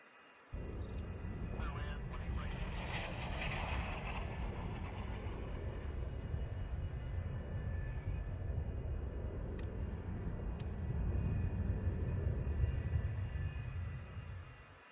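Aircraft engines at an airport in the game SimAirport make a steady, loud low rumble that swells slightly near the end, with a brief higher whoosh early on and a couple of faint clicks.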